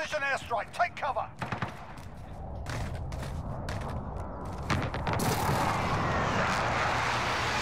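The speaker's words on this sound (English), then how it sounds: "Enemy precision airstrike. Take cover." An enemy precision airstrike in Call of Duty: Modern Warfare, with a few sharp gunshots giving way to a rising roar of aircraft and explosions that builds into a loud, sustained rumble.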